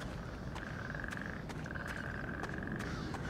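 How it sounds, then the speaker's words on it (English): Frogs croaking in the video game Pineview Drive: rapid trilling croaks in two bursts over a hissing night ambience, with sharp clicks scattered throughout, quiet and close. "Frog noises."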